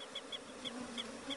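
Attacking honey bees buzz in a steady, dense swarm drone close by, with brief louder whines as individual bees pass, no voices present.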